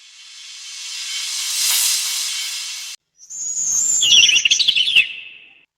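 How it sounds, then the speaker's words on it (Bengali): Bright bird chirps and tweets ring out in a cartoon village, rapid and close, following a few seconds of a swelling hiss that cuts off abruptly. "এত পাখির ডাক।"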